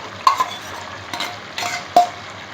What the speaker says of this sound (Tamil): அதை நல்லா கலந்து அந்த காய்களோட மிங்கிள் ஆகிற மாதிரி நல்லா கலக்கிக்கிறோம்